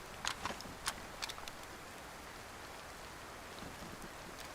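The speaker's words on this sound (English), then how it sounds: "It's still raining outside." Steady rainfall in the video game Vanilla Livonia hissing softly in the background, with a few brief clicks and taps near the start, fairly quiet throughout.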